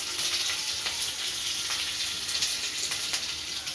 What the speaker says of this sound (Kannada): ಬೇಳೆ ಹಾಕ್ತಾಯಿದ್ದೀನಿ.